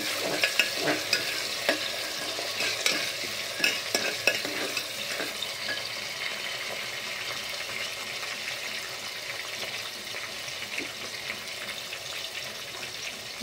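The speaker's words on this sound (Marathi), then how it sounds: "कांदा टाकून घेतल्यानंतर तो हलवून घ्यायचा।" Onion being stirred as it fries in a pan for pulao, with a soft steady sizzle under scraping spoon strokes that sound at an irregular, fairly busy pace, low in volume with no talking.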